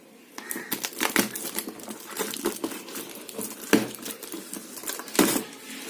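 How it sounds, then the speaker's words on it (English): Cardboard box holding aquarium supplies being cut open, with scattered crinkling rasps and sharp scrapes at close range, loudest bursts near the start and toward the end, no voices. "first cut this box"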